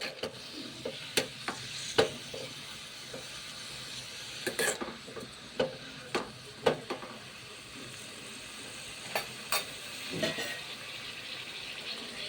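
Tomatoes cooking in a pan for Telugu tomato pachadi, with a soft background sizzle and a series of sharp spoon scrapes and clinks as they are stirred, close and intermittent, with no talk.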